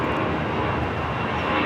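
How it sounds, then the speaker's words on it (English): A Qantas Airbus A380 arriving from Sydney at LAX produces a brief, steady low engine drone at moderate distance, with no speech over it. "Qantas Flight 11 A380 Super coming in from Sydney."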